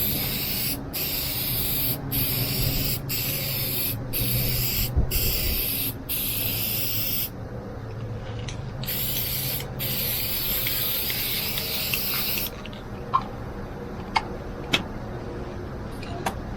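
Aerosol spray lacquer hissing steadily onto the face grain of a wooden piece, in repeated bursts with brief gaps between passes, close and fairly loud, followed by a quieter stretch with small knocks.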